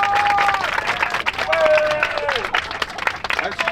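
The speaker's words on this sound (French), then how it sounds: "Un si gros applaudissement, c'était pas pour moi" A big crowd in a stadium in Cardiff breaks into dense, sustained applause, loud and close, mixed with cheering, shouting voices and a whistle-like tone.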